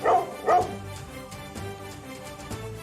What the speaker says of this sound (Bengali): কুকুরটা পাগল হয়ে গেছে